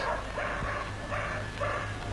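A dog gives a series of soft, rhythmic barks and yips, about four short bursts at close range over a low background hum.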